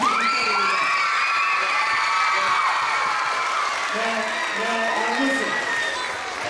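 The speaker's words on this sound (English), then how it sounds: "Let's give Mr. Harper a real big round of applause" A crowd of children at a school event applauds and cheers for drummer Winard Harper, with shouts and whoops rising over steady clapping that continues throughout.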